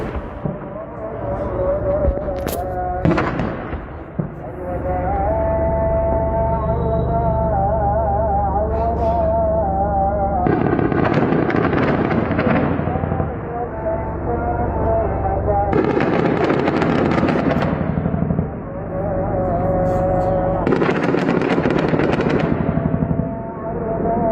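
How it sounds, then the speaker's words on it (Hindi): Gunfire in a ground battle between US troops and Kataib Hezbollah fighters: bursts of sharp cracks and booming blasts come in repeated loud clusters over a steady rumbling background, with voices audible in between. "गोलीबारी दोनों के बीच तड़ाके से हो रही है।"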